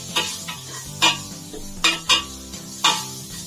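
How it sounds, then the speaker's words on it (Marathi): Red masala, garam masala and turmeric are sautéed in a pan, heard as a series of distinct spoon scrapes and knocks against the metal with only a faint sizzle beneath, close by. "आता हे थोडा परतून घ्यायचा।"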